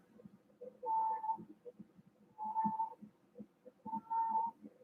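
Finny, a fat pet cat, lets out three drawn-out, tonal whines spaced about a second and a half apart. They sound fairly faint against a low, rumbling room background.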